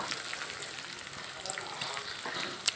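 Boiled potatoes frying in a pan with onion and garlic that are already browned, giving a soft, steady sizzle with light crackles and one brief sharper pop near the end, fairly quiet throughout.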